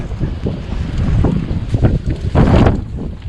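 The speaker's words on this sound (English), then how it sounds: "Very windy today." Gusty wind buffets a microphone outdoors, a low rumbling roar that swells and surges in uneven blasts, loudest near the end, with no talk.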